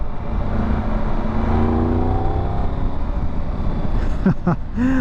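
A 2022 Triumph Tiger 1200 GT Explorer engine hums and rises in pitch while riding, with wind rush around it and a couple of quick revving swells near the end.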